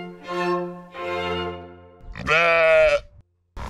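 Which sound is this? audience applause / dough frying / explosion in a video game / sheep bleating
sheep bleating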